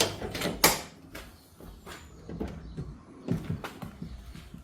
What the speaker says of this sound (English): Door check strap thing still works. Yep, the teeth are on it. Holds the door open.